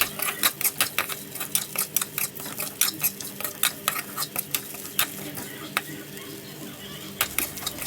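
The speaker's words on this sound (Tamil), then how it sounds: "வேக வச்சுருக்கிற கொழுக்கட்டைகளையும் அதில் சேர்த்து" Boiled kozhukattai are stirred with grated coconut in a pan, a quick run of rhythmic spoon scrapes and taps over a soft sizzle, close and fairly quiet throughout.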